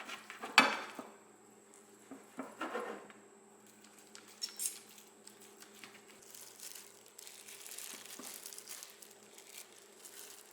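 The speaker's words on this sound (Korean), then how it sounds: "얇게 썰어 보겠습니다" A knife thinly slices boiled pork suyuk on a board, making sparse, quiet cuts and soft taps, with a louder clatter near the start and faint scraping later.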